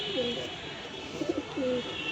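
Pigeons at a loft coo in low, rolling calls, two longer coos bracketing a few short ones over about two seconds, fairly close, against a steady background hiss.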